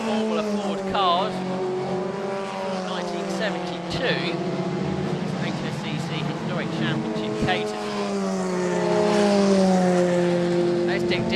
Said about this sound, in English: Right on the limit in these Formula Ford cars.